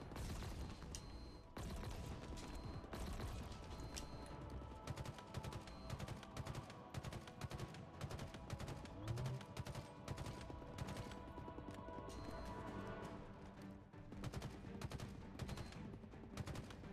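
Relentless gunfire in the video game Halo Infinite, rapid automatic bursts crackling almost nonstop with brief pauses, loud and close throughout with no talking.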